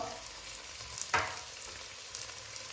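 Tomato pieces and paprika go into a hot pan for a crab curry, and a soft sizzle and frying crackle rises with a brief stirring scrape, close up, with no one talking.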